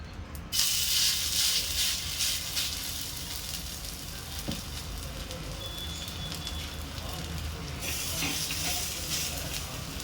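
An adai made from leftover rice cooks in oil on a dosa griddle, sending up a continuous close crackle and sizzle. Brighter bursts come near the start and again toward the end, with a soft voice under the frying.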